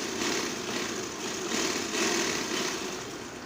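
A sewing machine stitches elastic in a round seam on kurti fabric, its motor giving a steady close whirring drone that swells slightly with the stitching pace.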